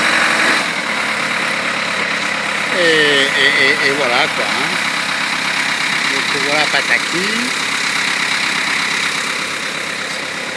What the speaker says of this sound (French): Donc c'est un tracteur.